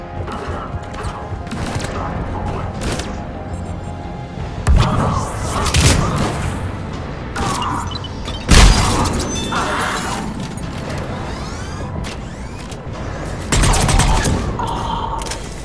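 Video game cannons fire in a rapid, irregular barrage of booms and blasts, with heavier thuds standing out amid the ongoing battle clatter and occasional voices.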